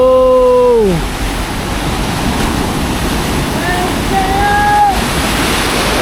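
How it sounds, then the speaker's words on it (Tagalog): Strong sea waves at El Nido, Palawan, a steady broadband roar of surf that holds throughout, with a short voice-like tone at the start and brief whistling tones later over the wash. "Guys, ang lakas ng alon."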